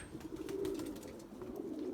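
Low, throaty cooing from Limoni pigeons kept in a loft carries steadily at moderate distance for a couple of seconds, with soft rustling underneath and no speech.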